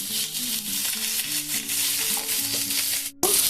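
Capsicum and onions fry in a hot pan with a dense, steady sizzle while a utensil stirs them, scraping and clinking. The sizzle drops out briefly near the end, then returns.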